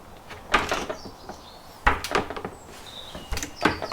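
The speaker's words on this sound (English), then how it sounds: "Can't shut the door." A door is knocked and pushed in several loud, sharp thumps and rattles, at least three separate attempts, with faint bird chirps in the background.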